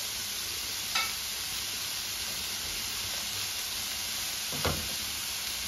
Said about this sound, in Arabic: نفس المقلاة كندير فيها الزيت وكندير فيها الصوصيص، هاهي حيت كيتشحاو لينا مزيان